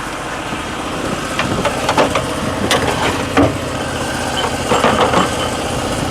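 A trailer-mounted cold-water sewer jetter's engine idles steadily up close, a constant rumbling drone with a few light knocks and clatters on top.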